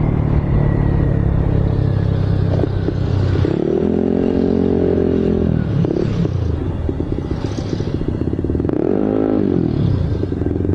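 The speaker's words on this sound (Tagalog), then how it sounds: "pitik-pitik lang tayo kasi breaking tong ating makina" A freshly built Yamaha Aerox scooter engine is run in during a break-in test, with a steady close rumble and clatter broken by a few short, rising throttle blips.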